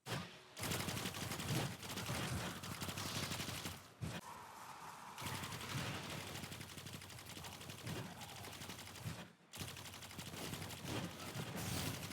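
Continuous rapid gunfire in the Destiny 2 Witch Queen shooter as enemies are cut down without reloading, dense overlapping shots with two brief gaps.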